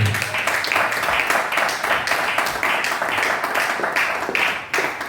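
A church congregation applauding together, a dense, continuous patter of many hands clapping with a rhythmic feel, fairly close and loud, with a voice speaking faintly underneath.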